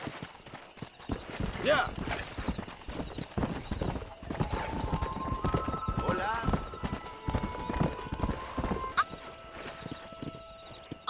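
Hoofbeats of a horse ridden in the Western game Red Dead Redemption, clip-clopping steadily and close while someone speaks briefly over them and music plays underneath.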